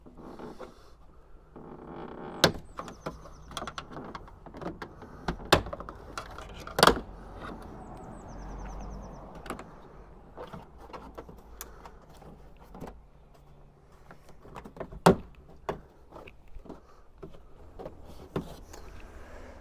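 Plastic interior trim clips on a 2017 Hyundai Ioniq Electric being pried loose by hand without a removal tool, giving sharp scattered snaps and clicks amid soft handling rustle, close and fairly quiet, with no talk.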